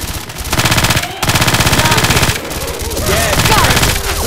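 Loud, rapid machine-gun bursts in the video game Left 4 Dead 2, rattling in quick rhythmic volleys with short gaps between them.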